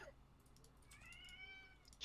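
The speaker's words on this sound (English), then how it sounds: "Shut it, cat." A cat meows in a room, one drawn-out, fairly faint call in the middle, over quiet background hiss and a sharp noise at the very end.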